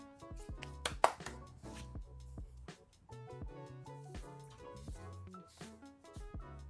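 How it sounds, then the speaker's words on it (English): Nuts for banana bread are chopped with a knife, giving quiet, irregular taps and thuds on a board in a home kitchen. "Am I chopping my nuts?"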